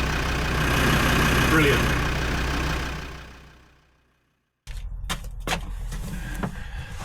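A car engine idles steadily after an exhaust leak repair with a low, even rumble that fades away to silence. Then comes a short spoken remark and some clicks and rustling.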